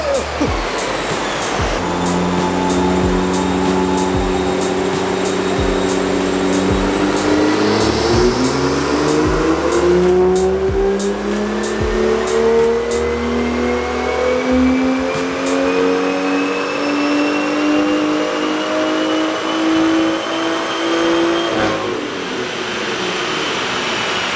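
A powerful BMW M2 track car engine revs on a dyno and climbs steadily through the gears, loud and close, with a brief drop and a final cut-off near the end.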